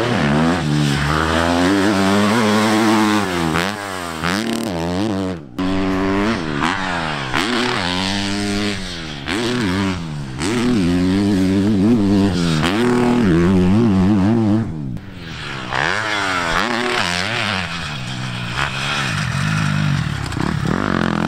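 A motocross motorcycle lapping a hillside track during practice ahead of the Italian MXGP, its engine loud and close, revving hard and dropping repeatedly through gear changes and corners.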